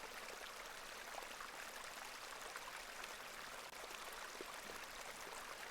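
Icy cold stream water flowing in a video game, a steady close rushing babble with no breaks and no voices.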